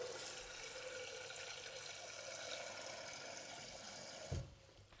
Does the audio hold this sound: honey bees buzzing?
no